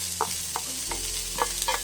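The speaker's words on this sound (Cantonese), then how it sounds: "炒埋最後一個菜啦" Steady sizzle of cabbage or spring onion frying in a wok, broken by a handful of clinking scrapes as a spatula tosses them, no voices.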